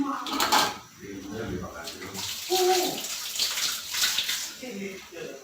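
Chayote being rinsed under a running tap in a home kitchen while making chicken tinola, a steady splashing wash of water with a person talking over it throughout.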